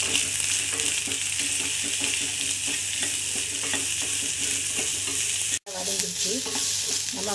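Onions with a pinch of salt sauté in a pan while a spoon stirs them. A dense, steady sizzle runs throughout, broken only by one brief dropout near the end. No voices.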